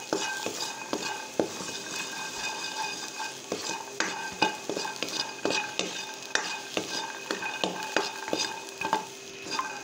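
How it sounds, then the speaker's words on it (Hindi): Peas frying in a pan for potato and pea kebabs, a steady close sizzle broken by repeated sharp scrapes and taps of a spoon stirring against the pan. "हम अपने करेंगे मटर फ्राई।"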